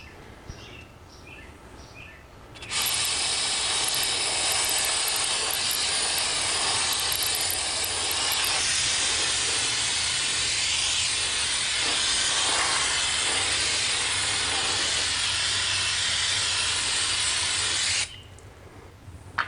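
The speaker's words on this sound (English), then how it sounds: "find some brake clean and clean them real good" Brake cleaner sprays onto the front brake rotors of a 1988 Ford Thunderbird TurboCoupe in one long, loud, steady hiss lasting about fifteen seconds, up close and with no talking, ending abruptly.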